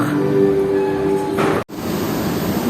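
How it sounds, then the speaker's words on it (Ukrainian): Passenger train pulling into a platform at a station on the line to Warsaw: a steady rolling rumble and metallic hum with faint tonal squeals, close by, briefly cutting out before the rumble resumes. "Наш поїзд."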